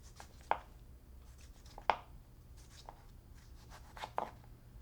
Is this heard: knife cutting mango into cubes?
yes